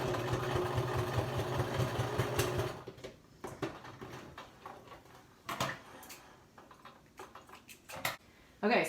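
A home sewing machine top stitches along the folded edge of a fitted fabric mask, whirring in a steady close run for a few seconds before stopping. Scattered clicks and handling noises follow.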